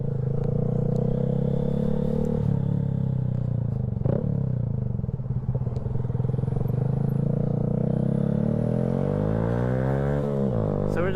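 A car driving around town, with a steady engine drone and road rumble heard from inside the vehicle, the pitch shifting as it slows and accelerates, plus a brief clunk partway through.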